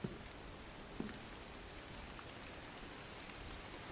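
Steady rain falls in The Infected video game, a soft, even hiss of patter with a couple of faint drops or taps standing out, heard alone without talk.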